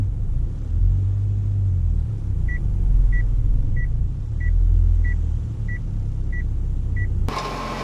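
A Honda Accord backs into a garage. A low engine rumble runs underneath a regular series of eight evenly spaced reverse-warning beeps, ending in a brief louder clatter.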